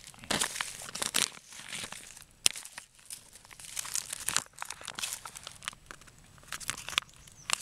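Plastic packaging of a flameless-heater pasta bolognese meal ration is opened by hand, with close, uneven bursts of crinkling, tearing and crumpling and short pauses between them.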